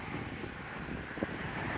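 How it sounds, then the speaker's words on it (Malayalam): Strong wind blowing through a forest in Poland on a cold day, a steady broadband roar that buffets the microphone for the whole stretch with no voices. "നല്ല കാറ്റുണ്ട്, അതാ പ്രശ്നം."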